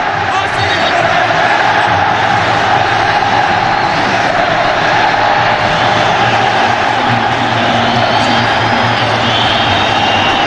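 A vast stadium crowd of football fans roars continuously at a Saudi Al-Hilal versus UAE Al-Ahli Asian Champions League match, a loud dense wash of noise with no break.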